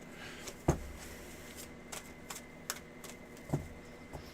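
Tarot cards being shuffled by hand in a steady run of soft riffling taps and sharper snaps, close and fairly quiet, with no talking.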